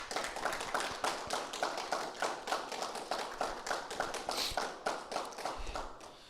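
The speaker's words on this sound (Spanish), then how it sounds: "¿Por qué no le damos un fuerte aplauso al Señor?" A church congregation gives a strong round of applause to the Lord during a sermon by Pastor Antonio Linares, with rhythmic, fairly even clapping in a roughly steady beat, moderately loud and without talk.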